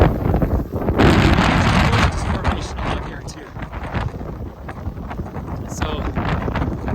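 Strong wind gusts buffet the microphone on the summit of Whistler, a ski mountain in icy conditions. The roar is loud and continuous, swelling and easing, with a person talking over it.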